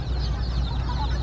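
Kadaknath and Sonali chickens on a poultry farm, a constant overlapping clucking chorus over a low rumble, a dense flock heard close with no speech.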